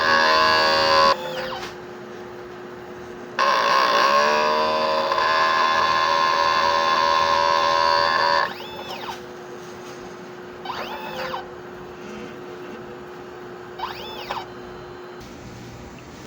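A 30 cm DTF printer runs a print head clean cycle: a loud whirring pump and motor drone with a steady tone, stopping and restarting, then fainter carriage whines and clicks near the end.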